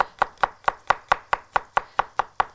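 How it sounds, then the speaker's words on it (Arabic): Garlic cloves are sliced thin on a cutting board, a knife striking the board in a quick, even series of about twelve crisp taps, close and clear with no voices. "والتوم هنا ما بحبوش مهروس، بحبه شرايح، هنقطعه شرايح رفيعة"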